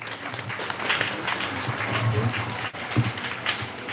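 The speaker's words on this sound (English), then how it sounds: "A round of applause for her." A crowd claps steadily for a few seconds at a school deworming flag-off event in Ogun, a dense patter of applause without pause.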